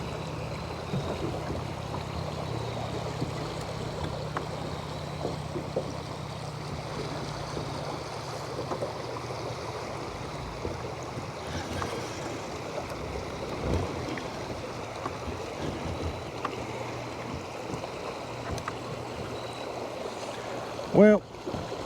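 Fast-running river water rushes past a fishing boat, forming a continuous broad wash with some wind buffeting on the microphone and a brief knock near the end.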